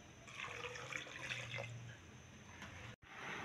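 Water runs steadily into a cooking pot of dhaba-style chicken karahi with ground onion and garlic, a continuous close pouring splash with a brief break near the end.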